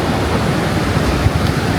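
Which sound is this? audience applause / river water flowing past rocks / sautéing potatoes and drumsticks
river water flowing past rocks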